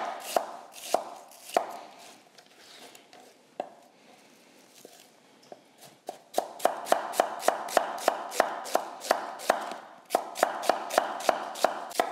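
A freshly sharpened knife chops onions thinly on a board, close and loud, starting with scattered cuts before settling into a fast, even run of sharp chops.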